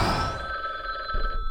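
A telephone rings once in a short, bright electronic trill, fairly clear and close, with no talking over it.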